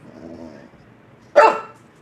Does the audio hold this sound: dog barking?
yes